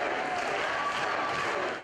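Crowd of Arizona supporters at a Ted Cruz presidential campaign rally, giving dense, steady applause and cheering that fills the whole short stretch.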